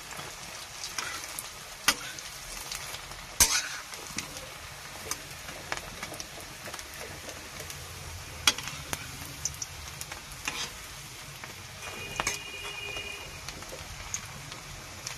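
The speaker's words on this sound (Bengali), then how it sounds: "এই পিঠটা আমার ভাজা হতে থাকুক। এবার দেখুন ফ্রেন্ড, আমার এই পিঠটা ভাজা হয়ে গেছে।" Fish roe fritters fry quietly in oil, a soft continuous sizzle dotted with sharp ticks and occasional clinks of a utensil against the pan.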